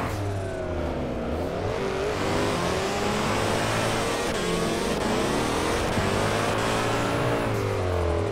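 Drift car engine in the Drift21 racing game revs hard and continuously, pitch swinging up and down as the throttle is worked, loud and close.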